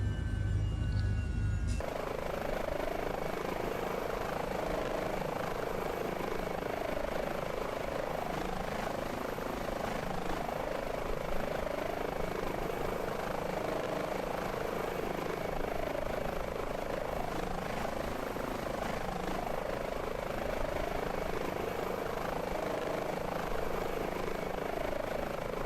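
Airbus H145 helicopter in Microsoft Flight Simulator with engines brought to idle on a North Sea platform medical mission: a continuous turbine whine and rotor drone, steady and fairly loud for the whole stretch after a brief opening burst.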